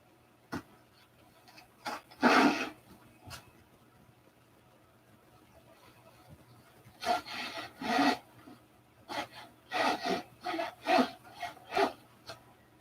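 Hand saw cutting wood for framing, bursts of rasping strokes: a single stroke early, then a cluster of quick back-and-forth strokes later, close and moderately loud against a quiet background.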